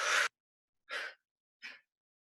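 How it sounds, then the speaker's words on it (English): Three breaths during a guided Wim Hof breathing exercise: a strong rushing breath, then two shorter, softer airy breaths, close and clear with silence between them. "let's take a big breath in and a big lasting exhale."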